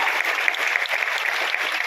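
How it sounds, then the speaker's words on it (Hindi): An audience at a company seminar gives Alok sir a loud round of applause, with dense, continuous clapping that holds steady and close throughout. "आलोक सर के लिए एक बार जोरदार ताली होनी चाहिए"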